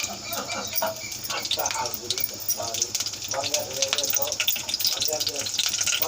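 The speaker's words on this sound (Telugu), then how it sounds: "లైట్గా వేయించుకోవాలి." Small broken pieces of green chilli fry lightly in oil for a Varalakshmi Vratam prasadam, a dense crackling sizzle heard close by, with a voice talking over it.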